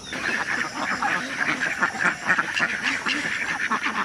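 A flock of Khaki Campbell ducks on a commercial duck farm keeps up a dense chorus of overlapping nasal quacks, loud and close, without pause.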